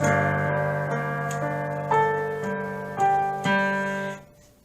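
Piano notes on G, two octaves apart in the low register, ring out, sustained and fairly loud, with fresh strikes at steady intervals before fading at the end.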